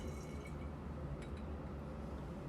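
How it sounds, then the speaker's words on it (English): Liquid flows steadily into a glass separatory funnel in a lab during an extraction, a continuous soft trickling wash, fairly faint and with no speech. "pour that right into our separatory funnel."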